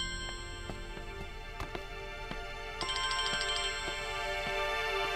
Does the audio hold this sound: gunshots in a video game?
no